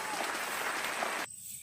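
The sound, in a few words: classroom applause for a classmate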